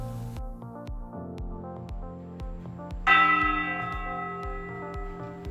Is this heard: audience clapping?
no